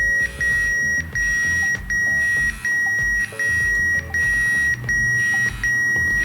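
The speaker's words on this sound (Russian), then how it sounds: "Будильник на Siemens сработал." A switched-off Siemens mobile phone sounds its alarm clock with a loud, repeating electronic beep tone. The bursts come in a steady rhythm of about one per second and play alone, close to the phone, for the whole stretch.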